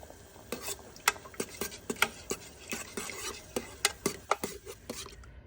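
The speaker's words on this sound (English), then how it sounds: "Now I'm going to stir for 2 minutes." A utensil stirs melted candle wax in a container, giving a steady run of light, sharp scraping clicks, one roughly every third of a second, close and moderately loud with no voices.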